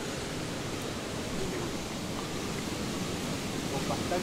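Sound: rushing water of a large canal at night

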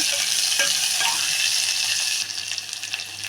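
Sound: tempering onion and garlic frying in pan

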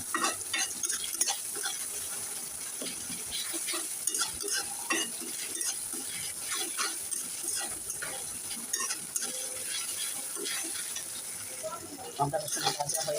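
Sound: ginger and garlic paste frying in oil

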